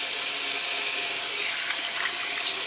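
Water streams steadily from a tap into a lather bowl to wet a hard shaving soap before an Edwin Jagger DE89 shave, a continuous close hiss with no talking.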